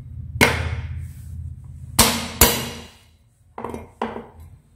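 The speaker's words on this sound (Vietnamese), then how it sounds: "Cái tỏi các bạn đập ra cho mình." Five sharp, heavy thumps on a hard surface, spaced irregularly, as garlic cloves are smashed flat with the side of a blade, close up.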